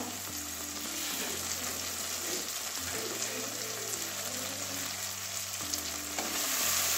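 Washed spinach going into a pan with a simmering snail and spinach curry, a steady broad sizzle running throughout with low hum underneath, close and without talk.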